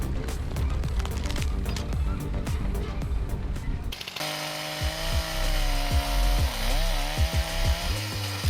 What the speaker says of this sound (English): Watch as the powerful steel MS-361 chainsaw tackles this mature oak, carving through with ease.